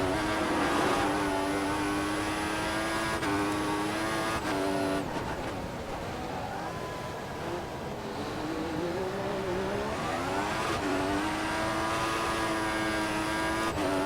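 A Formula 1 race car in the F1 2014 video game at the Japanese Grand Prix on worn tyres, its high engine whine rising and falling through gear changes with wheel spin, steady and close throughout the whole run.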